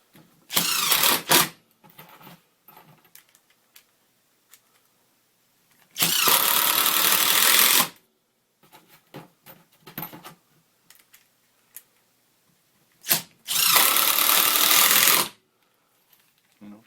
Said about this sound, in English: Obviously it's going to drive a drywall faster than a pen head.